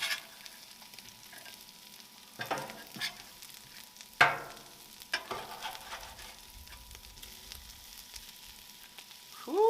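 Potatoes sizzle steadily on a Blackstone griddle while a spatula scrapes and flips them, with several distinct scraping strokes over continuous frying hiss, close and clear.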